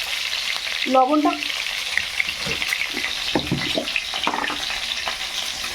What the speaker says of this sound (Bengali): এই ডিমগুলো এবার ভেজে নেব